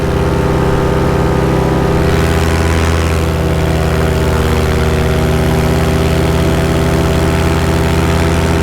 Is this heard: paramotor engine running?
yes